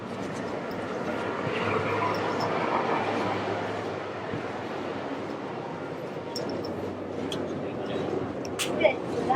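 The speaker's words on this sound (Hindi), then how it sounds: "ये मैगलेव ट्रेन है भाई, उड़ने वाली ट्रेन है।" A maglev train runs at an airport with a steady low rumble and airy whoosh from close by, with occasional light clicks and a voice speaking over it.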